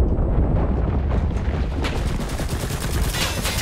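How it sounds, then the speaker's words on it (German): A bot's gunfire in the WWII shooter game Enlisted: a dense, continuous roar of shots and blasts that holds steady and loud for several seconds with no talking. "Wieder Schuss durchs Gemüse von dem Bot."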